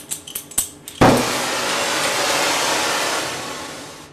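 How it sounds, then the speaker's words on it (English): An acetylene torch for flux brazing aluminum sparks with a few quick clicks, then ignites with a sudden pop into a loud, steady roaring hiss of burning gas, close to the listener, with no talking. "We're going to light the torch."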